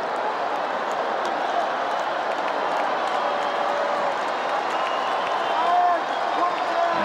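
The Fenway Park baseball crowd rises in a sustained roar of cheers and applause in the ninth inning of a Yankees–Red Sox game, with a commentator talking over it.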